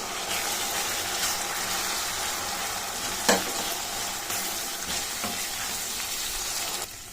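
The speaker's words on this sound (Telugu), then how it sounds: "ఇప్పుడు పెసరపప్పులోని పచ్చివాసన పోయే వరకు మనం కలుపుకొని పెట్టుకోవాలి." Soaked moong dal frying in a pan with radish leaves curry being prepared, a steady close sizzle throughout with a spoon stirring and scraping now and then, no voices.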